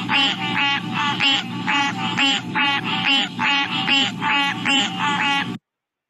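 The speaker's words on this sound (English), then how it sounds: "if you want to think about green tree frogs as sounding like a duck or a goose" Green tree frogs give a steady run of nasal, honking calls, about ten evenly spaced notes with a duck-like quack quality. The calls sound close, fairly loud and unbroken for several seconds before stopping abruptly.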